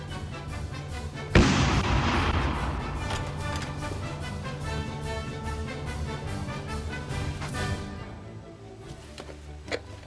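Bombs exploding during an air raid on a military base in a film scene: one heavy close blast followed by a dense rumbling wash of explosions and fire that slowly fades.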